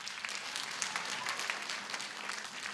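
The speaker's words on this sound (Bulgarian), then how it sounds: "Вашите аплодисменти." Festival concert audience applauding, a steady wash of many hands clapping at a distance, soft and continuous without voices.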